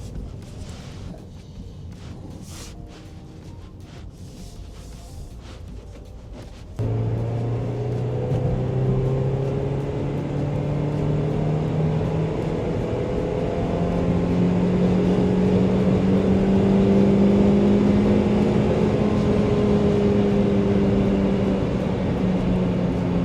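A Toyota Auris Valvematic with a recently reset fault pulls away under acceleration, its engine note rising steadily and staying loud and close after a quieter idle-like opening, no talking.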